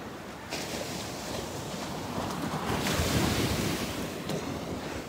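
Sea waves wash onto the shore in a continuous, loud surf, swelling and breaking in rolling surges with wind buffeting the microphone.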